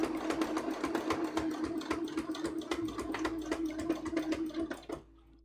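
Embroidery sewing machine tacking fabric in place, a fast steady needle rattle with a constant motor hum, running close and loud for about five seconds before stopping abruptly.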